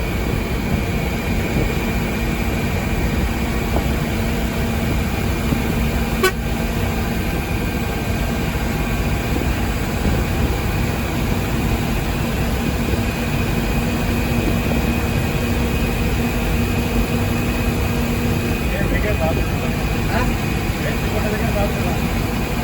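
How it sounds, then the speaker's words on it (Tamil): A diesel engine turning over at low revs, its steady low rumble and faint hum running unbroken for the whole stretch, fairly close, with no clear voices over it. "டீசல் போகிற மாதிரி இருக்குண்ணே ரொம்ப லோவாக இருக்கு"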